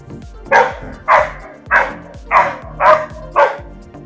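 A dog barks six times in a steady rhythm, loud and close, with no other sounds around it.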